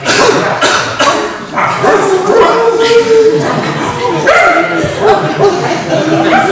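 Audience members mimic dog barks and yips in a crowd, a loud jumble of overlapping imitated woofs and whimpers with voices mixed throughout.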